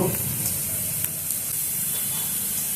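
Finely chopped garlic frying in hot oil in a pan gives a steady, loud, close sizzle and hiss, with faint stirring clicks and no talking.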